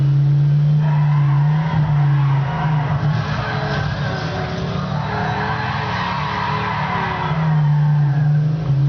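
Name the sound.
car drifting into turns in the video game Midnight Club LA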